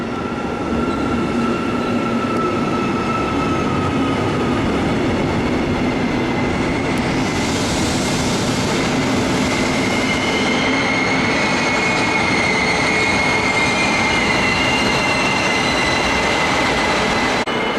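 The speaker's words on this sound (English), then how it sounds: "there's a train coming in right behind us" A train rumbles steadily close by with rolling wheel noise and high squealing tones, continuous and loud with no talking.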